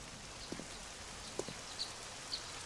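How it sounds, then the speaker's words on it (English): Steady soft rain in the survival game 7 Days to Die, a faint even hiss with a few sparse brighter drips and taps scattered through, no voices. "Oh, it's raining, man."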